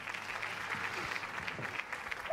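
An audience claps throughout as a dense, steady patter of many hands at even loudness, neither rising nor fading.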